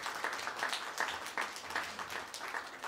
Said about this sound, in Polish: I prosimy o wielkie brawa dla tych osób